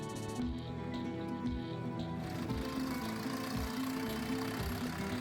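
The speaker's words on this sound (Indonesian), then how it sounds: "Traktor-traktor besar yang gagah juga turut berperan penting untuk mempersiapkan lahan yang akan ditanami bibit-bibit sorghum." Large tractors prepare farmland for sorghum planting in a drought-hit area of East Nusa Tenggara, Indonesia; a steady, moderately loud diesel engine drone runs throughout with rhythmic mechanical chugging and no talk.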